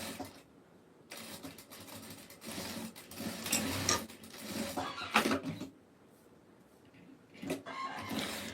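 Sewing machine stitching along a marked line on fabric, a steady whirring run in several bursts with short pauses between, close and fairly loud with no talking.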